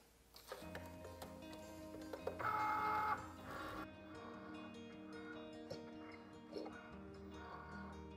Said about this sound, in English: My Cricut just finished cutting out my foam sheets